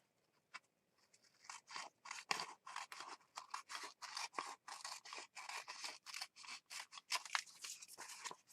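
Scissors snip steadily through book pages and junk mail during a mixed media craft session, a close, dense run of crisp repeated cuts after a brief pause at the start, no talking.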